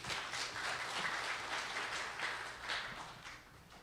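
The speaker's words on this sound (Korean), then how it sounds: "큰 박수 부탁드립니다." Sustained applause from a forum audience welcoming a real estate investment speaker to the stage, a steady wash of many hands clapping at moderate distance with no voices.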